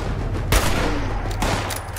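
Gunfire in the video game Fallout 76, a loud burst of shots with a sharp report near the start and another hit later, set against a constant busy game ambience.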